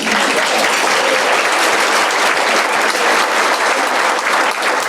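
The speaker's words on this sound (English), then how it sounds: "You can applause there." Loud, dense, continuous applause from an audience at a chamber of commerce women's achievement awards ceremony, a steady wash of many hands clapping together with no pause.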